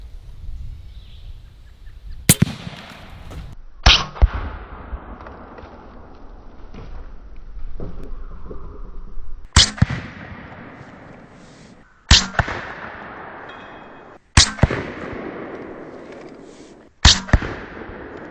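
An AEA Element Max air rifle fires about seven sharp, loud cracks at irregular intervals, each with a short decaying tail, with quieter handling noise between shots.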